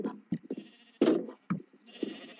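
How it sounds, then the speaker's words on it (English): Minecraft sheep bleating in a farm area of a video game, several short baa calls in an uneven rhythm, with one louder bleat near the middle and fainter ones around it. "My sheep are over here."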